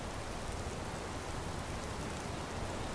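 Steady rain falls in the game Skyrim, an even wash of hiss and patter holding at a constant low level throughout, with no voices or other sounds.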